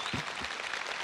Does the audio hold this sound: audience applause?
yes